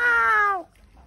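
A single loud, close cat meow at a cemetery, one drawn-out cry that slides downward in pitch and stops abruptly, followed by near silence.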